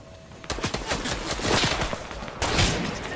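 Gunfire rattles in the Roblox shooter Arsenal: loud, close rapid bursts of shots that pause briefly before another heavy volley.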